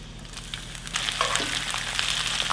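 Onion thrown into a pan of melted butter before flounder is added, a close crackling sizzle that swells and holds steady after a few stirring taps.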